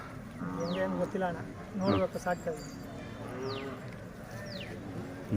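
A young Hallikar bull calf, still with milk teeth, moos on a farm in Kondapura near Channapatna, giving several drawn-out, rising-then-falling calls spaced a second or so apart amid outdoor background noise.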